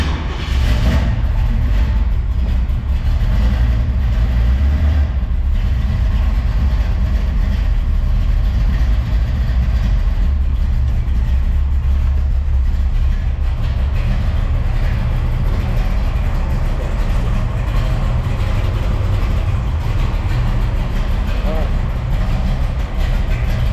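Chevrolet Chevelle engine starting and settling into an idle, a deep steady rumble sustained throughout, with some voices over it.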